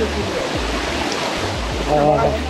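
Water rushes steadily over Chinchoti waterfall near Vasai Virar, a loud continuous close wash that builds slightly toward the end.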